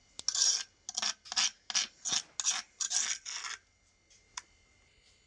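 Homemade green chili and onion chutney is scraped from a mortar into a bowl with a spoon: about nine rhythmic rasping strokes, close and crisp, then a pause and one last scrape, with no talking.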